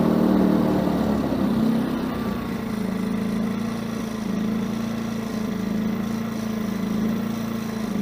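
A WEN 56225i inverter generator engine runs steadily and settles to a slightly lower, quieter hum as it switches into economy mode. The close, continuous drone then holds even.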